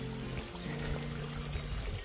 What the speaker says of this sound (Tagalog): ang ganda ng agos ng tubig